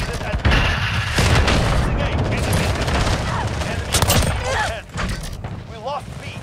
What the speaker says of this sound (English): that was the enemy's airstrike